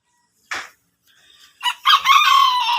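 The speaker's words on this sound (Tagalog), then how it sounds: "habang nagpapakain, pinapakawalan ko na tong manok na to" A chicken on a Philippine farm gives a short squawk, then a loud, close rooster crow that rings out alone for over a second.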